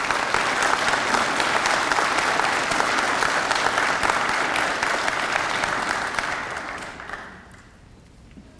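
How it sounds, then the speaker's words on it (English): A crowd at a Nashville Fire Department recruit graduation gives the families a loud, sustained round of applause that fades away over the final seconds. "you guys deserve a round of applause"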